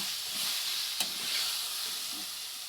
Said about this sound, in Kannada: ಚೂರು ಅದೆಲ್ಲ ಫ್ರೈ ಆಗಲಿ